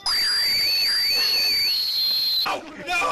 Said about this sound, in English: I'm sounding the war whistle!